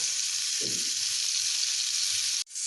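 Boiled cauliflower fries in hot oil with bay leaf, grated ginger and salt in a pan. A loud, continuous sizzle hisses throughout, with one brief soft stir early on and a sudden drop near the end.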